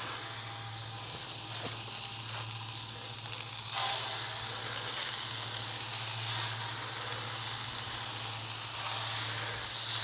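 Lamb smash burgers sear on a very hot cooking surface turned up high, giving a steady, close, loud sizzle and hiss that swells slightly partway through, with no voices.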